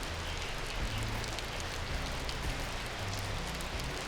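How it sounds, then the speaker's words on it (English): Steady moderate rain falls on a hotel room's surroundings during a bicycle tour stop between Bangkok and Malaysia, a dense continuous hiss of drops with no voices. "now that's not the heaviest rain in the world"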